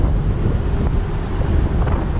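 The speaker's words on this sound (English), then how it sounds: "And it's super windy up here." Strong wind roars across the open top deck of the Emerald Princess cruise ship, a steady, loud buffeting rush with small gusty swells and no voices.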